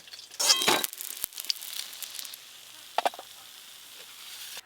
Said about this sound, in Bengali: আর 4 পিস মাছ আছে, একবারেই ভেজে নেব।